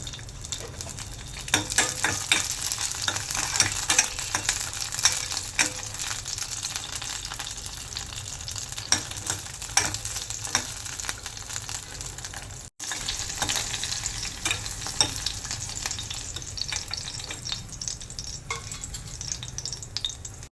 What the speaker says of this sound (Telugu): ఆయిల్ వేడిన తర్వాత పచ్చిమిరపకాయలు ఫ్రై చేసుకోవాలి